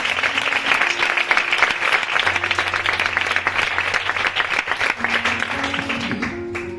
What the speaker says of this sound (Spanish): Damos un fuerte aplauso a la palabra de Dios